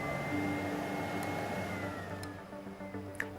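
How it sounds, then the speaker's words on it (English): A Miele Blizzard CX1 bagless canister vacuum runs its automatic fine dust filter cleaning, a steady loud motor whir with a faint tonal whine that slowly drops in pitch, ending with a brief click. "the fine dust filter will be cleaned automatically. You'll hear this happening."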